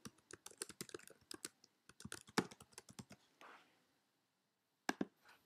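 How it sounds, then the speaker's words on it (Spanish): Close, quick keystrokes on a computer keyboard tap out an email address in a rapid burst, pause briefly, then finish with a couple of final clicks. "Escribimos nuestro correo electrónico"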